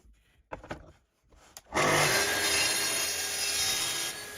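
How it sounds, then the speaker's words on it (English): A track saw on a bench trimming jig makes straight cuts through picture-frame wood: a few short knocks and bumps, then a loud, steady, continuous cutting roar from about two seconds to the end, with no talk. "The trimming jig was just there on the bench, so I thought I might as well use it for the straight cuts."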